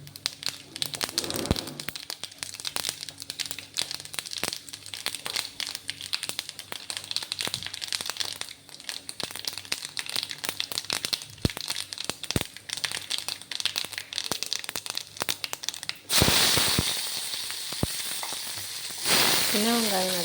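Mustard seeds and urad dal crackle and sizzle in hot oil, a dense close stream of sharp pops and spits, then a louder, broader sizzle surges in near the end.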